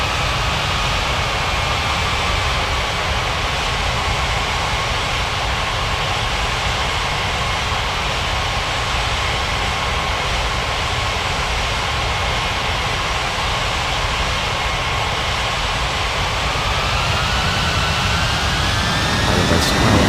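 An airliner takes off from runway 35 in an air traffic control game: a steady, loud jet engine roar fills the whole stretch and climbs in pitch toward the end, with no talk over it.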